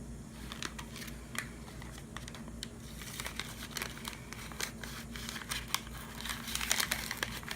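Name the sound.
paper towel being crumpled and wiped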